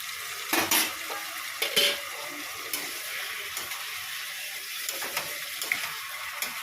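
Fish head masala is stirred in a pan, quiet spatula scrapes and a few clinks over a faint sizzle, close but soft.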